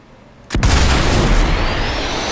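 A grenade explodes in the Sniper Elite 4 video game, San Celini level: a sudden, loud, close blast followed by a long, heavy rumbling decay that fills the rest of the moment.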